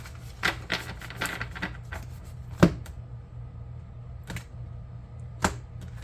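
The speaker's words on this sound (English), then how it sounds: "They're telling me to shuffle and split the deck again" A deck of tarot cards is shuffled and split by hand, giving scattered soft riffling taps and a few sharper card clacks at irregular intervals. The sounds are close and quiet, with no talk.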